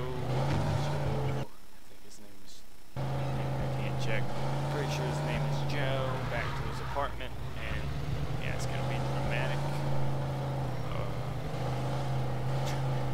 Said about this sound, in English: today we're driving Joe